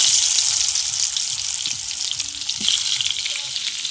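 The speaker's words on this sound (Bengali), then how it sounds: "আলুগুলো মাখিয়ে নিলাম, আলুগুলো ভেজে নেবো। ছোট আলু, তো আলুগুলো ভেজে নেবো।" Small potatoes fry in hot oil in a kadai, a loud, continuous crackling sizzle that holds steady throughout with no talking over it.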